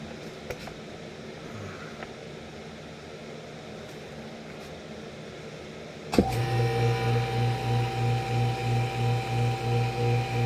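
A heat press clamps down on sublimation paper laid over a KYDEX holster blank for a SIG X10 with an X300 light. A quiet lead-in is followed by a sudden loud clunk and a steady humming drone with a regular pulsing throb.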